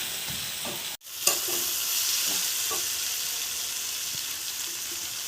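Water pours into a pan of jackfruit curry that has been sautéed until the oil separates, setting off a steady, close sizzle and frying hiss after a brief sharp splash, continuing without speech.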